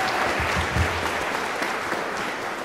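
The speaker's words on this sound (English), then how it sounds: "We just give them one great hand of applause, like one more round of applause" Steady applause from an audience at a jazz band concert, a dense continuous patter of clapping with no break throughout.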